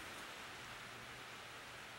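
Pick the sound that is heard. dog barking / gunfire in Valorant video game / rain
rain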